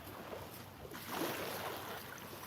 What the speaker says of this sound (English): be quiet so that you can watch the sun and listen to the waves